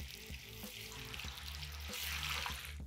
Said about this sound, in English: I have a pan with hot oil in it and now let's start frying them.